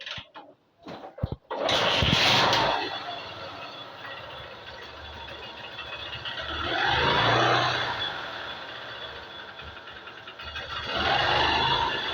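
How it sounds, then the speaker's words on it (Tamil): A Honda Shine 125 motorcycle with a rebuilt engine is started after a few clicks and cranking, then idles steadily with a rising and falling rumble, close by and without speech. "உங்களுக்கு வண்டியை ஸ்டார்ட் பண்ணி காட்டுறேன்."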